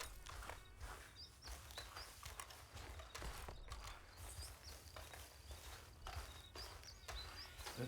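A horse walks in the Red Dead Online game world with steady clip-clopping hooves, close and even, over a constant rumbling outdoor background.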